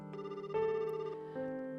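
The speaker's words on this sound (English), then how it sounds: "I heard the phone tone ring." An electronic phone ringing tone from the Summer Pockets visual novel plays in a few clear, sustained tonal pulses that shift in pitch, close and isolated with no voices.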